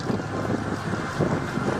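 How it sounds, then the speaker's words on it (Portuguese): Powerful tornado wind roars as a continuous low, gusty rush with buffeting surges, loud and close, with no voices. "É um tornado poderoso."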